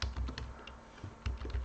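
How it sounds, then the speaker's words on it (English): Quick keystrokes tap on a computer keyboard in short bursts with a brief pause, close and fairly quiet, with no voices. "now I go here and I'm going to type here code"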